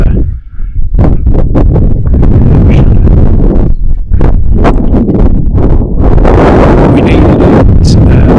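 Strong wind of about 15 to 20 knots, gusting to 25, buffets a sailboat running under jib, roaring loudly and continuously with rushing gusts that swell toward the end, while voices talk beneath the noise.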